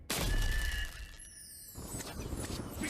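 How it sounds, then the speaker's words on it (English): A lightning bolt spell strikes in the fantasy video game Demeo with a sudden loud crackling burst. It fades into a sizzling, ringing tail, with no speech. "A bolt of lightning!"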